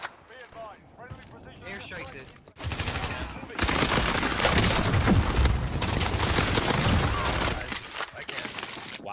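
An airstrike in an online shooter game erupts into dense, loud rolling explosions and rapid blasts that follow a short stretch of players talking and continue for several seconds.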